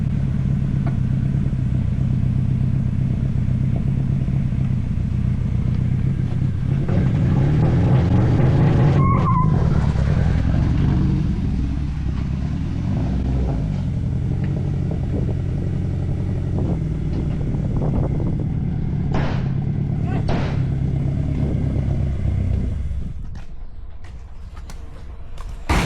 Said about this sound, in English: First burnout.